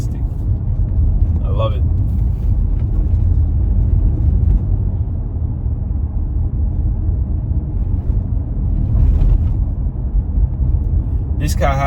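A Lexus RX 350 F Sport engine easing off and then accelerating, a steady close cabin rumble of the motor and road noise, with a driver's voice talking briefly over it.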